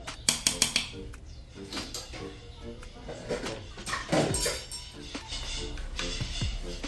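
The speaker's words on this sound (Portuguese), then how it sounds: "Agora eu vou tampar e vou levar pro fogo por aproximadamente 1 hora e meia." Metal pot and lid clatter in a home kitchen as the lid goes onto a pot of mocotó boiling in salted water, with sharp clanks early, a scrape near the middle and lighter knocks after.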